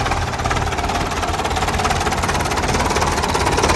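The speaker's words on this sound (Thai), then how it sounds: "เครื่องยนต์เดินเรียบนะครับ" A Ford 6600 tractor's diesel engine runs steadily up close, a loud, continuous chugging rumble with a fast, even knock throughout.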